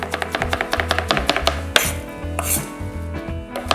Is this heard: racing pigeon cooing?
no